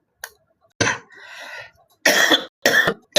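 Several short, sharp coughs ring out close by, separated by brief pauses, with a raspy breathy sound between them.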